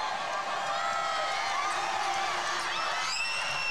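Crowd at a basketball game inside Araneta Coliseum roaring and cheering steadily, a dense loud wash of voices with whoops and rising shouts throughout.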